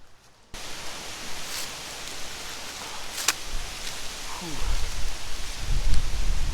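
Broad, rushing wind noise outdoors on a cold autumn evening at an urban hammock campsite, growing louder and gustier toward the end with low buffeting rumbles.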